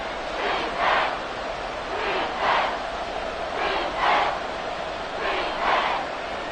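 A football stadium crowd cheers during a game, a dense, loud roar that swells in four or five rhythmic surges, like chanting waves, with no talk over it.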